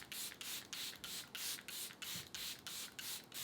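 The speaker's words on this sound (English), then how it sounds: "Now I'm going to spray my face again with my setting spray." Makeup setting spray misted onto a face in repeated short bursts, about eight quick hisses in a steady rhythm, close and fairly loud, with no talking.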